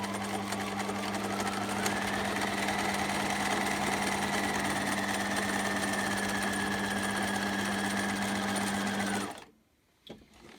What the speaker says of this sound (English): I'm now just going to stitch some lines of quilting, curvy lines randomly across my fabric.